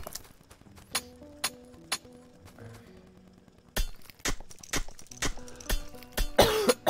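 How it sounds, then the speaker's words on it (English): Several sharp coughs during Factorio gameplay, scattered and then coming in quicker bursts, close by, with faint clinking and rustling in between. "angling my cough away from the microphone"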